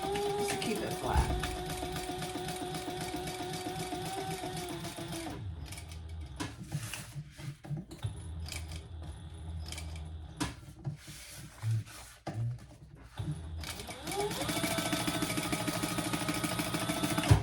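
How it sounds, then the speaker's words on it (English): A sewing machine hums steadily as it stitches along both sides of a pressed seam on a crossbody bag, pausing midway for fabric handling and rustling before starting again. "And then just sew on either side of that seam."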